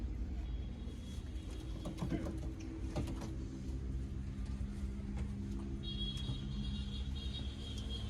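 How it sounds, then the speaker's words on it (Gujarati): Pigeons at a farm cooing faintly beneath a continuous low engine rumble, with soft scattered clicks and a thin high whine arriving partway through. "જોઈ લ્યો કબૂતરા."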